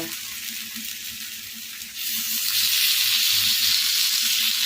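Thin potato slices fry on a hot tawa with a steady hiss that swells louder halfway through into a bright, continuous sizzle, close and unbroken.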